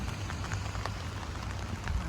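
Rain falls steadily outdoors in the Barry's Bay and Wilno area of Ontario, Canada, a soft continuous patter of scattered drops with a low background hum, and no voices.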